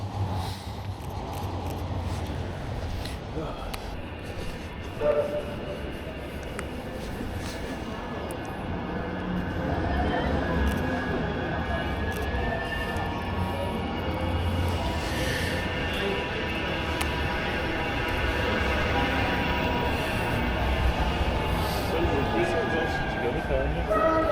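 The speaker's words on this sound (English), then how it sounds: "I think there's a tram there" A tram rumbles past at night on a Manchester street with a rising electric motor whine and steady mechanical noise, growing louder and holding through the middle before staying busy.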